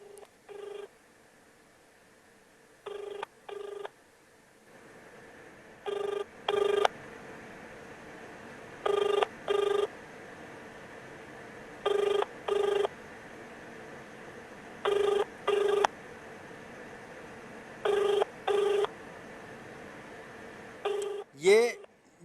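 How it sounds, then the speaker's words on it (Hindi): A call to the Lady Hardinge Medical College hospital helpline in Delhi rings unanswered: repeated paired ringback tones at steady intervals, clear and close, ending in a short click. "मैं लेडी हार्डिंग मेडिकल कॉलेज है उसके हेल्पलाइन नंबर पे फ़ोन लगा रहा हूँ"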